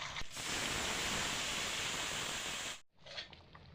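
Curry gravy boiling in a pan for a parshe fish and elephant foot yam dish makes a steady, loud bubbling hiss that cuts off abruptly, followed by a fainter clatter.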